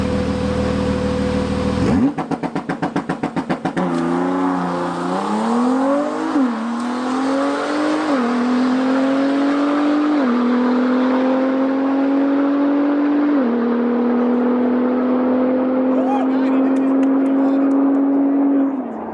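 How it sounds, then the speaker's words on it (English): Ford GT supercar on a quarter-mile drag run, its engine roaring loud and close as it launches and pulls hard through a series of upshifts, each gear change dropping the pitch before it climbs again, then holding a strained whine toward the end. "The Ford GT supercar goes 1090s in the quarter mile."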